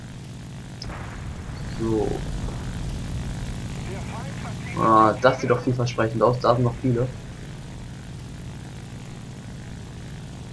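Propeller aircraft engines in War Thunder drone steadily in the background throughout. Someone speaks German over the hum.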